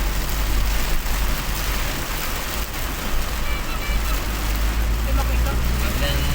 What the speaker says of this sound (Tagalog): Biglang lakas naman ng ulan.